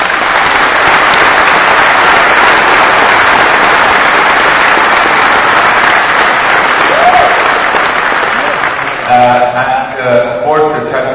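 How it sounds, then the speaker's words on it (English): Sustained, dense audience applause fills a large keynote hall at a gaming Fanfest, steady and loud throughout, with a voice beginning to speak over it near the end. "I really want to applaud you guys that have participated in that."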